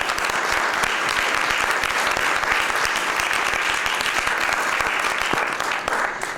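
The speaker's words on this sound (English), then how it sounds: "so we can just give them another round of applause" A crowd applauds steadily and loudly at a Saturday workshop, dense clapping sustained throughout before tapering slightly at the end.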